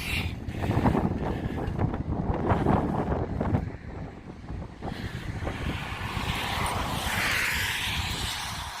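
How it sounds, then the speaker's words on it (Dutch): Strong wind roars and buffets the microphone continuously on a cycle route near Hulst, rumbling loudly with gusts, alongside a rushing, surf-like wash. "Zoals je hoort, enorm veel wind."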